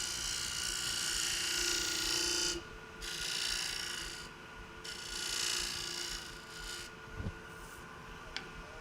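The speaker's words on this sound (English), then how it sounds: "this is a nice sharp spindle gouge, so it really seems like it's leaving me a nice surface" Sharp spindle gouge cutting a wood spindle on a lathe, a steady close hiss and whir broken into several passes by brief gaps, with a small knock near the end; no talking.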